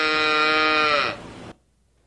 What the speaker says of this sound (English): I had the heartbreaking opportunity to videotape a mother cow crying after she'd been separated from her baby.